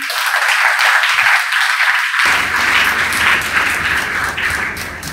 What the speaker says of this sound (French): Vous pouvez également applaudir pour lui.